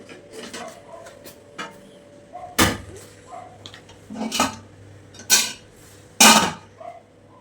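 Several sharp metallic clanks and scrapes of a lid against a hot pot of mutton-fish biryani, spaced a second or so apart, close by over a low hum.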